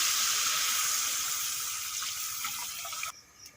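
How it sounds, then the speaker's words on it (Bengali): Coconut milk goes into a hot pan of spiced masala for a duck egg and potato curry, making a loud, steady rushing hiss. The sound fades slightly and then cuts off abruptly just before the end. "এখন দিয়ে দেবো নারকেলের দুধ"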